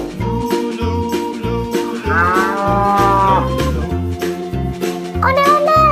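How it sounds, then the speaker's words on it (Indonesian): A large cow moos loudly and close by in several drawn-out calls, with jingly background music playing under them. "Ondel-ondel, itu ada sapi tuh ondel-ondel."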